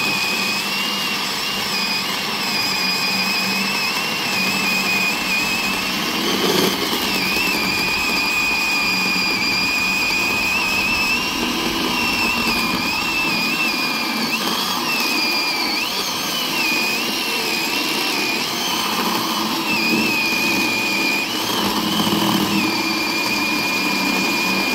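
A Greenworks 12-inch 40V electric chainsaw runs continuously with a steady high motor whine, holding an even, loud pitch with small wavering dips as it cuts.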